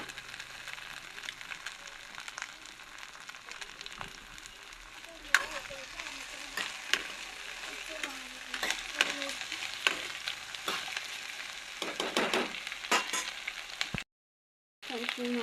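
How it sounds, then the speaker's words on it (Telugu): Okra pieces fry and sizzle in a pan for a steady stretch, with scattered crackles and the scrape of stirring at moderate loudness, then a brief moment of silence near the end. "ఇప్పుడు బెండకాయ ముక్కలను ఇందులో వేసేసుకున్నాం."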